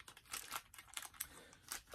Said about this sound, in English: now I'm going to put it away. It's going to go back in its little plastic bag.